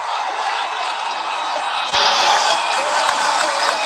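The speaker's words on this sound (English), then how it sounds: "The roar in the crowd tell you all about that one" Crowd roaring after a boundary at a Pakistan vs Sri Lanka cricket match, a loud, dense stadium roar that swells sharply halfway through and stays sustained with no break.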